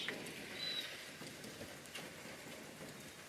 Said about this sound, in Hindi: ये देखो, बारिश ही बारिश